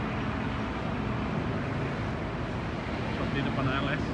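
A PT Pelangi Jetbus 1 coach waits at the ALS bus depot in Palembang, a steady broadband engine and traffic rumble holding at one level throughout with no clear break.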